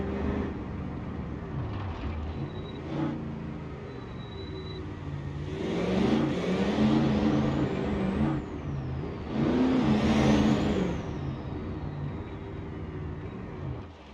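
Civetta Scintilla sports car engine in BeamNG.drive: a steady drone rises into two strong revving surges, climbs in pitch and then falls back, loud and close.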